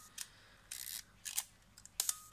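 Film camera shutter firing indoors, a few sharp crisp mechanical clicks spaced apart against near silence, close and fairly quiet.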